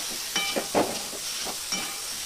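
Pav bhaji masala sizzles steadily in a hot pan as a spoon stirs it, several scraping strokes cutting through the constant close frying hiss.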